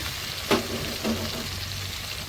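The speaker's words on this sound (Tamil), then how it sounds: "இப்போ குழம்ப கரைச்சி இதில் ஊற்றிடலாம்" Tamarind curry mixture for a village-style prawn curry is poured into a hot frying pan, giving a steady sizzling hiss with a couple of brief splashing bursts and no talk.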